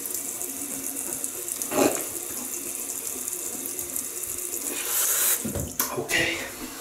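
Tap water runs steadily into a sink while a Parker 22R double-edge razor is rinsed, heard up close with brief splashes and surges, and a voice speaks over it near the start.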